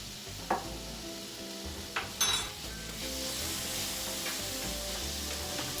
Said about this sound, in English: Just saute it a little bit to release the flavor before I add it into the sauce